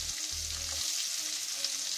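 Onions sizzle steadily in a hot pan while cooking a crab gravy, a dense crackling hiss with faint stirring scrapes, no voices.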